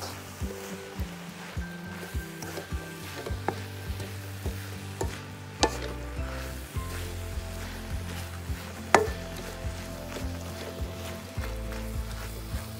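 A vinegar mixture sautéing in a pan for a Salvadoran-style chicken sandwich, a soft steady sizzle broken by a spoon stirring and scraping in frequent clacks.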